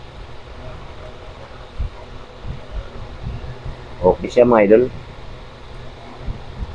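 An electric fan blows with a steady whooshing hum while a person speaks briefly over it.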